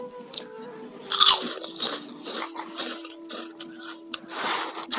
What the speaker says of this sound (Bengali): এই চিপস এখন সন্ধ্যায় নাস্তা করবো